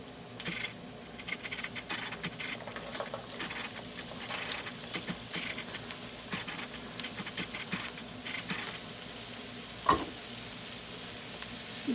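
Okra frying in a pan of oil over medium-low heat, a soft, steady sizzle with scattered crackles and a louder clack near the end, no voices.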